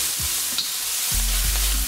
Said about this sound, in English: we're just going to stir fry these shallots till they're golden brown like this